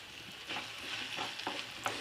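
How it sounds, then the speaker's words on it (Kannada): Cut okra slices being tossed and stirred in a frying pan of hot oil, giving a soft sizzle with a few brief scraping stirs, close and fairly quiet, with no voices. "ಎಣ್ಣೆ ಬಿಸಿಯಾದಾಗ ನಾವು ಈ ಕಟ್ ಮಾಡಿದ ಬೆಂಡೆಕಾಯಿಯನ್ನು ಹಾಕ್ಕೊಳ್ಳೋಣ"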